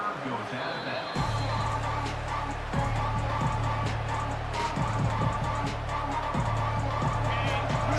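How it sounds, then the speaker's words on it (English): Steady roar of a large college football stadium crowd fills the space, a dense wash of noise with a low droning tone underneath, continuous throughout. "to the crowd energy here in the early going"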